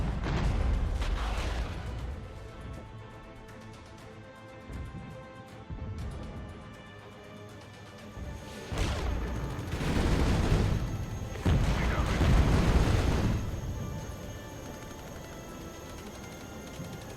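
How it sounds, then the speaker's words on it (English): Incoming mortar rounds land in the military strategy game Regiments as a string of heavy booming explosions, some distant and some nearer, over a constant low battlefield rumble with swells of louder impacts. "It kind of looks funny how the mortar fire's coming in."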